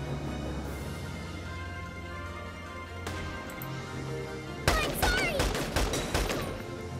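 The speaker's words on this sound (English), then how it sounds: "Hopefully Nico can at least shoot this guy." Gunfire in the video game Valkyria Chronicles 4, a sudden loud volley of rapid shots partway through, following quieter in-game ambience and a single sharp crack.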